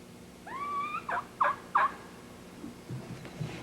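A wild turkey gobbles in the open, a rising rattling call followed by three sharp, clipped bursts in quick succession, fairly close and clear over quiet background.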